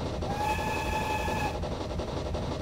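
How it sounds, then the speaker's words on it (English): A steam 0-4-0 saddle tank locomotive gives one sustained whistle blast of about a second, shrill and clear over the rumble and clatter of the moving train. "For crossing, check for people and give a blast on the whistle."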